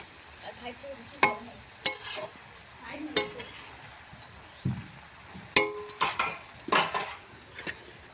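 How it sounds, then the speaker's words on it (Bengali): Betho saag greens stirred in a kadai with a metal utensil, making repeated close scrapes and clinks against the pan over a light sizzle, with sharper knocks as a lid goes on. "শাকটা আমি কড়াতে দিয়ে দিয়েছি শাকটা নেড়ে চেড়ে ঢাকনা দিয়ে চাপা দিয়ে দেবো"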